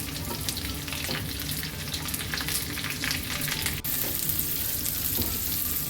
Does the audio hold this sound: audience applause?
no